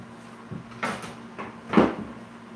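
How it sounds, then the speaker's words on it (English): A wooden drawer is yanked and shoved shut in three rough knocking bursts, each a short scraping thud, close and fairly loud, with no talk. "So I'm sitting here fighting my friend's drawers."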